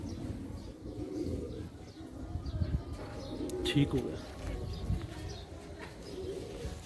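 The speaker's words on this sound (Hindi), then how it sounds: "ये कबूतर है जी, टैडी कबूतर है।" Teddy breed pigeons cooing in a loft, soft low throaty coos under steady background noise, with someone speaking briefly.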